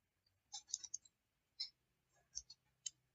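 Sparse, crisp keystrokes on a computer keyboard while typing Django template code, about seven quick clicks in small clusters with short pauses, close and fairly quiet with no voices.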